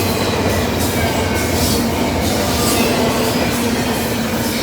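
A Norfolk Southern locomotive, a DC-to-AC conversion, passes by in Northern Kentucky with a loud, continuous rumble and rushing rail noise, close and steady throughout.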